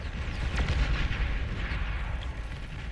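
Snipers destroy a geothermal generator in the strategy game Beyond All Reason: rumbling artillery-like blasts and crackling gunfire rolling together in a dense, booming battle din.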